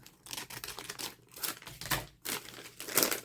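Cardboard of a spaghetti box crunches and crinkles as it is cut in half, a series of close, irregular snips and tearing rasps with brief pauses between.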